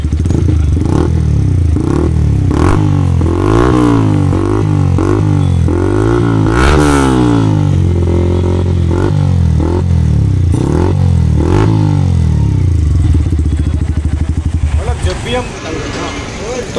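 Yamaha R15 V4 motorcycle fitted with a long new-model Akrapovic exhaust, revved repeatedly up and down in loud, close bursts with sweeping pitch, settling to idle at the end while voices talk over it.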